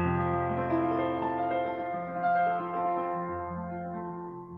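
A major chord rings out on a piano, several notes sustaining together and slowly decaying, with a slight shift partway through as the voicing changes, clear and unaccompanied.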